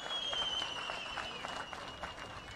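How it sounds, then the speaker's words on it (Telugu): A crowd at a political rally claps in a steady, moderate burst of applause that carries on throughout, with a faint whistle-like tone running above the clapping. "ఎదుర్కోవాలంటే గట్టిగా చప్పట్లు కూడా చెప్పండి"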